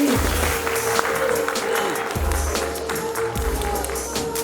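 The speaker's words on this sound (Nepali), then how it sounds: "एकचोटि उहाँहरूको लागि जोरदार ताली बजाइदिनुहोस्।" An awards-ceremony audience at the National Entertainment Awards 2021 claps steadily for several seconds, a dense patter of applause layered over a pulsing musical beat.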